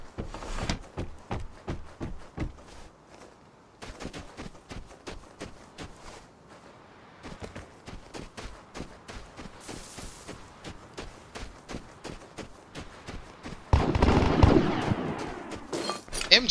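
Rapid bursts of MG3 machine gun fire in the video game Vigor, repeated sharp shots in quick rhythmic runs, moderately loud with a louder, denser stretch near the end and occasional talk.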